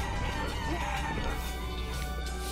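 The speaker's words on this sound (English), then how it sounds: "Oh god, there's so many chickens." Many chickens in the video game Guacamelee, clucking and crowing together in a dense, continuous din layered with game music.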